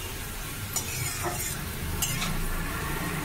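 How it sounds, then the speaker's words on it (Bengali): Potatoes frying in a pan while being stirred, soft scraping strokes of a utensil over a low steady sizzle, close and fairly quiet with no talk. "বারবার নেড়ে দিচ্ছি এই কারণে, যাতে ধরে না যায়, পুড়ে না যায় আলুটা"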